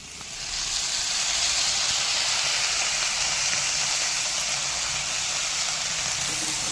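Washed greens hit a pan of frying potatoes and set off a loud, steady hiss of sizzling oil that rises quickly at the start and holds evenly to the end.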